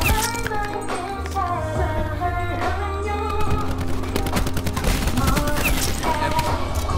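Pistol gunfire in a shooter video game: rapid, loud shots cracking over a dense, constant bed of game music and effects, sustained throughout.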